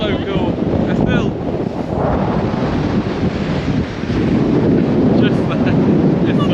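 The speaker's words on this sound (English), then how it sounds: "It's so windy." Heavy coastal wind buffets the microphone on an exposed shore at the top of Scotland, a loud continuous roar with faint voices briefly audible under it.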